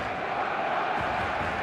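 A dense stadium crowd roars in an eFootball match, a steady, loud wall of massed cheering and chanting that holds without a break, with no distinct voice standing out.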